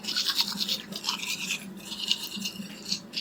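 A toothbrush scrubs teeth up close, with quick, rhythmic bristle strokes that rasp steadily and briefly ease before resuming.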